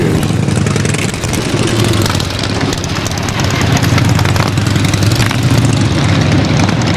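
Motorcycle engines idle and rumble at Laconia Motorcycle Week at the Weirs in 1997, a dense, steady low drone from many bikes in an outdoor crowd, with voices mixed into the noise.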